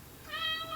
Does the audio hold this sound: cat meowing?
yes